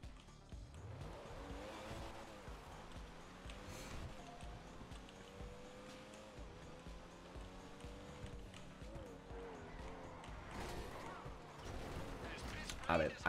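A car races along in GTA V Online, a vehicle poorly suited to the road, its engine droning steadily with tire squeals and skids throughout, louder toward the end, while faint game sounds sit underneath.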